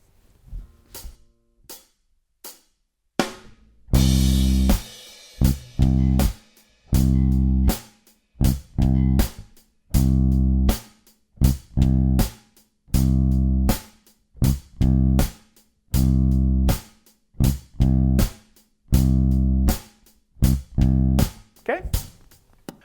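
A few sparse drum clicks, then a deep electric bass line in short, clipped notes locks into a steady programmed drum beat, repeating at a moderate tempo.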